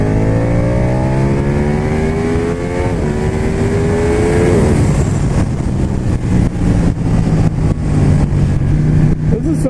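Ducati 1199 Panigale superbike accelerating hard through the gears, its loud engine note climbing in pitch and then dropping at each upshift before rising again, close and with no talk over it.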